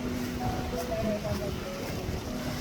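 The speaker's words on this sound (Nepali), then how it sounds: "हावा चाहिँ वाइल्ड हावा लाग्दो रहेछ" Strong wild wind blowing outdoors on a foggy hillside near Thankot, a steady broadband rush that stays loud and unbroken throughout with no gusts dying away.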